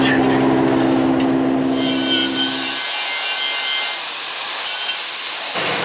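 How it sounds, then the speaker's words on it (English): A drill bores holes through a cut-off lawnmower pulley, giving a continuous grinding, rasping whine that holds steady for several seconds, close and fairly loud with no voices. "I'm drilling holes for my pulley that I cut off so I can make my lawnmower a little faster"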